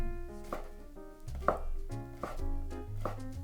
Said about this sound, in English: Next, chop some Chinese sausage, lapchung, into smaller pieces.